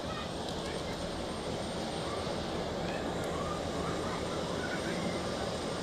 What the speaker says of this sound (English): United 777 is apparently taxiing already.